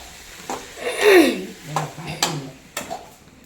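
Mutton gravy being stirred in a pot, a few scraping strokes and soft clatter of a utensil against metal, close by and moderately loud.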